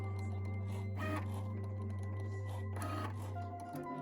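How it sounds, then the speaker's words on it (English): A Cricut machine cutting vinyl decals hums steadily up close, with soft motor whirs and two brief scraping bursts as the blade carriage moves across the sheet. "have my Cricut machine cut them out"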